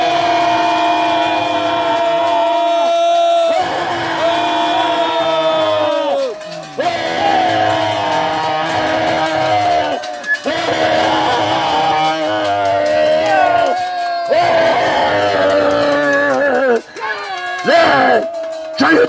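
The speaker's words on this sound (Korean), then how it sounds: "자, 10초간 함성 발사" A protest crowd outside a prosecutors' office in Anyang rallies over alleged election fraud, loudly and continuously roaring, whooping and yelling in unison for close to twenty seconds, with brief dips between bursts of shouting.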